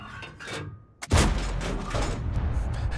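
A single heavy cannon shot from the FV1066 Senlac tank in a video game, a sharp close boom followed by a rumbling roar that fades slowly.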